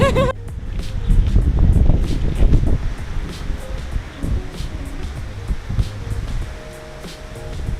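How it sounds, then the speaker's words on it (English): Strong wind buffets the microphone outdoors on a cold day on the water, in heavy low rumbling gusts, loudest early on, with faint water and Sea-Doo engine-like noise underneath. "It's very windy out."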